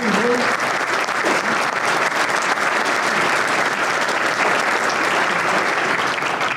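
A chamber of commerce breakfast forum audience gives a loud, sustained round of applause, dense steady clapping filling the whole stretch without a break.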